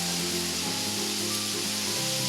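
Green chillies hit melted butter in a pan alongside tomatoes and sizzle in a loud, steady, hissing fry that carries on without a break.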